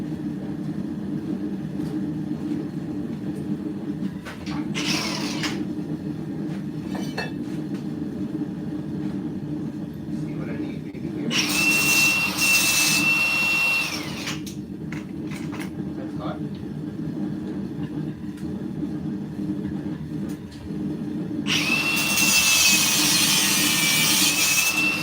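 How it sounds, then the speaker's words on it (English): An angle grinder cuts a pin on a forged Bowie knife in a home workshop, two loud, high whining bursts of several seconds each over a steady low hum, with some talking in between. "We'll get a grinder to cut this pin here."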